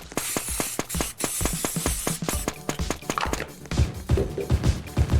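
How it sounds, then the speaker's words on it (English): Metallic spray paint sprayed directly onto an epoxy surface, close and loud, a steady hiss broken by rapid rattling taps and short bursts, continuing throughout with no talk. "I just love the effects that you get from using that spray paint directly into the materials"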